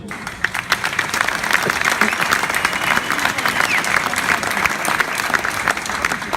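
Enthusiastic audience applause at a Fête de la Musique 2017 concert, greeting a performer who started out as a flautist. Dense, loud, continuous clapping from many hands fills the whole stretch, with faint voices mixed in.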